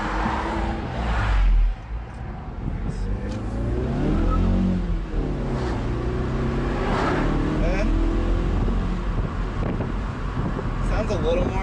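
A Mazda 3 with its intake resonator removed accelerates hard, the engine drone rising and falling in pitch over about eleven seconds, heard from inside the car along with steady wind and road noise.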